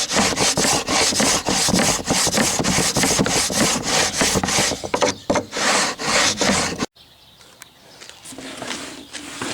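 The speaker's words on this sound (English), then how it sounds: "we're going to wax the bottom with this stuff" Wax is rubbed onto the bottom of a wooden table saw cross cut sled, making rapid rhythmic scraping strokes close by for several seconds before stopping abruptly, followed by faint background noise.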